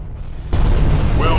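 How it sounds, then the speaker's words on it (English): A spacecraft explosion in the game Freespace 2 erupts suddenly after a quiet low hum, a loud deep boom that rolls on with a rumbling tail. "Oh, that's an explosion."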